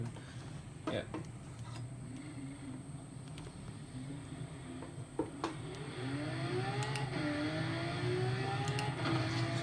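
A car engine pulling away in first gear in a driving simulator game, a steady low hum that rises in pitch with a climbing whine as it accelerates, with people talking over it.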